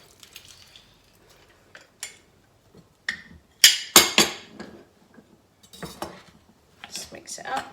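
Fresh tomato salsa with lime juice being stirred in a bowl, irregular close clinks and scrapes of a utensil against the dish, louder in the middle, with quiet gaps between strokes.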